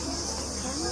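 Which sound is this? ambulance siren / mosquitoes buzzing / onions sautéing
mosquitoes buzzing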